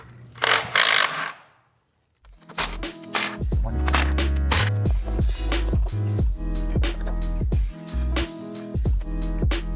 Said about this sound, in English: now we're finally going to start unbolting the upper intake so we can get this off here